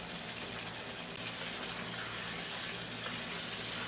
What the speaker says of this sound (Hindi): चावल के पानी को ड्रेन करते हैं